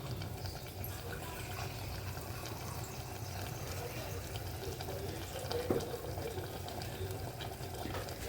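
Water is poured into a pot of cooking chana dal, making a soft, steady stream of flowing liquid at low volume. A quiet voice murmurs underneath.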